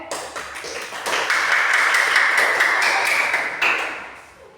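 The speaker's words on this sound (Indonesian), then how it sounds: "Kita beri tepuk tangan untuk kelompok anggrek." A fourth-grade primary school class breaks into applause for a student group that has just presented its discussion results, a dense, steady patter of many hands clapping for about three seconds before it tapers off.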